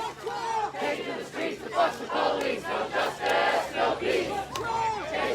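A large crowd of protesters fills a city street in Portland, with continuous shouting and chanting voices rising and falling together over a steady hum.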